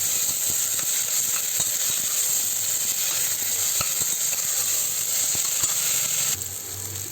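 Chicken gravy masala with ginger-garlic paste sizzling loudly and continuously in a pan while being stirred, a steady frying hiss with occasional scrape ticks of the spoon.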